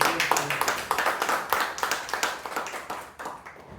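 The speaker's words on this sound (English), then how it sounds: "So we can have a big round of applause." A Toastmasters meeting audience gives a round of applause, dense, close clapping that is steady and then thins gradually toward the end, with no talking over it.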